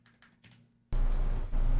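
Computer keyboard typing, a few soft faint key clicks at first, then a sudden loud, dense stretch of clattering keystrokes up close.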